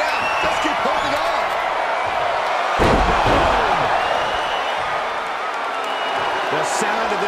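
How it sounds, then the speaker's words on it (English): A packed wrestling arena crowd in WWE 2K22 roars without a break through a Fatal Four Way table match, a loud, dense wall of noise with one heavy slam partway through and commentators talking over it. "The sound of this crowd is deafening, and he's asking for more."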